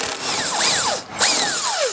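A power tool with a 14 mm socket spins bumper beam bolts loose, its motor whining up and down in two quick surges, close and fairly loud.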